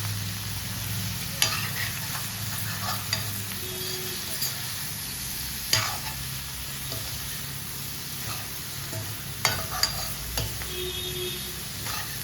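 Bitter gourd fries in oil with chili powder in a pan, a soft steady sizzle punctuated by a few sharp scrapes and clinks of stirring, fairly quiet with no talk.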